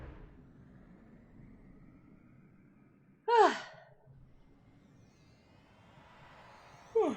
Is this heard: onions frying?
no